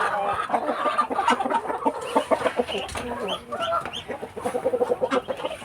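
Backyard breeder chickens cluck busily while feeding, a dense, close chorus of short clucks and squawks filling the whole stretch without pause.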